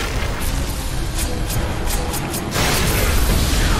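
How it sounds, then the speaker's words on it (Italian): Angelic beasts in Darksiders Warmastered Edition fire a rapid string of booming projectile blasts, then a louder, denser burst of impacts follows near the end. "Certo che le bestie angeliche sparano all'infinito"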